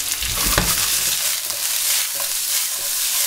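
Fried potatoes with spring onions sizzle in a pan, a loud, close, hissing fry with soft scraping as they are stirred.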